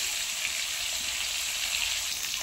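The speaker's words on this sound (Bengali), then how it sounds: "এই ট্যাংরা মাছ তো ভাজতে বেশি সময় লাগে না, খুবই কম সময়ের মধ্যে ভাজা হয়ে যায়।" Tangra fish sizzle in hot oil in a pan, a steady, loud, hissing crackle with no talk over it.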